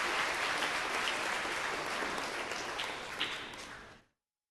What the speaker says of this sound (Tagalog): Sino sa inyo yung nandito kahapon, pumalakpak ng malakas?